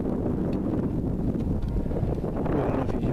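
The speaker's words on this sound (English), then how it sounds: "the wind is so strong" Strong wind buffets the microphone at Fort Pickens, a loud continuous low roar of gusting rumble that fills the whole stretch with no other sound standing out.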